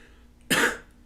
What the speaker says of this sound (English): I couldn't stop coughing during the class